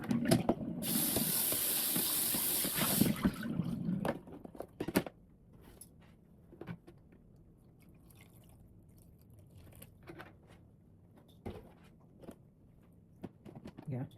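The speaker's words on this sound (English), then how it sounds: "I'll change the water." Water is poured and sprayed while being changed on a tray of radish microgreens, a loud hissing rush for a few seconds that cuts off into quiet drips, small splashes and handling noises.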